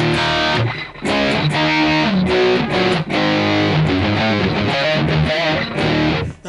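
Heavily distorted electric guitar playing a dense riff, loud and dry with no echo trailing the notes, sustained throughout.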